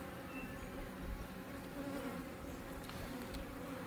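Honeybees swarm around an open beehive during an inspection, a steady, dense buzzing drone that holds evenly throughout, fairly close but quiet, with no talking.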